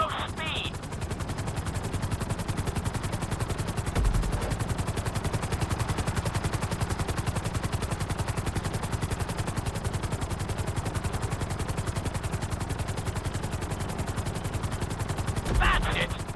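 A helicopter flying a marked course in Grand Theft Auto V, its rotor beating as a steady, loud, continuous chop through the whole stretch, with two brief heavier bumps along the way and no talk.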